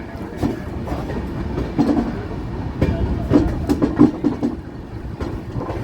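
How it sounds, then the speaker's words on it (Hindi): The 12506 North East Express rolls slowly over freshly changed railway track, wheels knocking in an uneven clickety-clack with heavier thumps near the middle, heard from inside a carriage under a constant low rumble. "और ट्रेन स्लो चल रही है"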